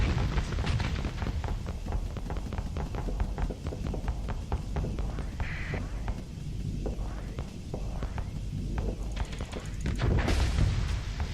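Spaceship weapons and missiles firing in the space combat game Starsector, a dense, continuous barrage of rapid booming shots and explosions with a louder burst near the end, with no talk.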